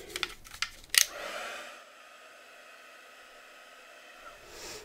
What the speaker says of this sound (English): Let me get my heat gun and dry this quickly.